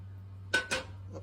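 Small pieces drop into a cooking pot in two quick clattering hits, followed by a fainter third knock, close and alone over a steady low hum.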